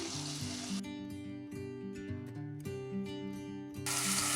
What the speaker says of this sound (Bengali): প্রথমে আলুগুলো হালকা করে ভেজে নেব।